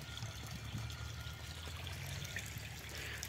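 Water pours steadily from a pipe into a village water tank, a continuous trickling, splashing flow heard close by with a low hum beneath and no one talking.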